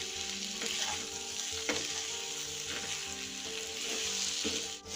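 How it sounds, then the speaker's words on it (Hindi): Sooji appe sizzle steadily in hot oil with Kashmiri red chilli powder, a close, continuous frying crackle broken by a few light stirring scrapes and taps. "आधा छोटी चम्मच कश्मीरी लाल मिर्च पाउडर डाल देंगे। इन्हें अच्छे से फ्राई कर लेंगे।"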